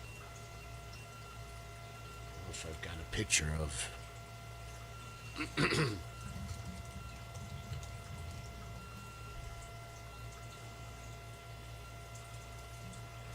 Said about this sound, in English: This is 24-hour flow on here, so there's lots of aeration splashing through this tub